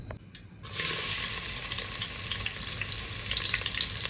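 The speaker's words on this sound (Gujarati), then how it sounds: "તેલ ગરમ થઈ ગયું છે ને આપણે નાખી દેવાનું છે ડુંગળી." Onion hits hot oil after a quiet start, bursting into a loud, steady sizzle of frying that continues close up and unbroken until the end.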